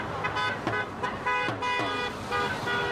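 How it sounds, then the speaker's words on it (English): Cars passing a roadside protest, drivers sounding their horns in support: several short toots and longer honks over steady traffic noise, fairly close and loud. "Those passing by giving a honk in support"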